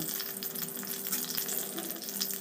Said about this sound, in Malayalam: എണ്ണ ചൂടായി കഴിയുമ്പോൾ ഇതിലേക്ക് കുറച്ച് കറിവേപ്പില ചേർത്ത് ചൂടാക്കുക